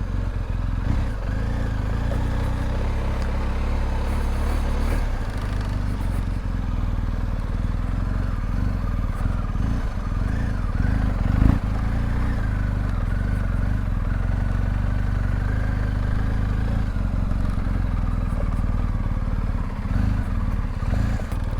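A BMW 1250GSA motorcycle rides along a grassy trail, its engine and road rumble a steady, close drone for the whole stretch with only small swells in level and no talking.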